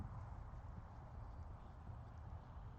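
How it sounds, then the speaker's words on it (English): Hooves of a ridden horse sound faint and muffled under a steady low rumble of wind or handling noise, with soft repeated thuds in an even gait. "And Casey's horse is being really good"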